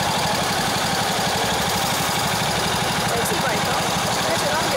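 A motorbike engine idles steadily close by, a low rhythmic chug running throughout, with voices faintly present over it.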